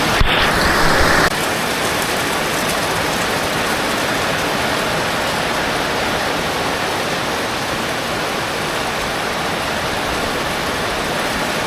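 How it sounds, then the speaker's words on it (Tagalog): Heavy rain pours steadily in a dense, unbroken hiss, loud and close, continuing without pause. "Grabe ang ulan. Sana tumila na to."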